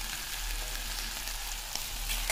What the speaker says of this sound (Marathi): मी व्यवस्थित हळूहळू इकडे हलवत आहे, एकत्र करून घ्यायचं आहे